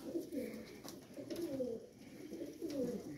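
Several pigeons coo softly in a loft where young birds are kept, low throaty burbling calls rising and falling in repeated phrases, close by and fairly quiet.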